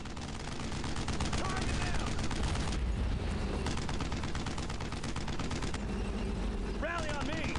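Dense, loud gunfire in a World War II shooter game, rapid machine-gun bursts and overlapping rifle shots forming a continuous fusillade, with brief whistling ricochets near the end and a voice talking underneath.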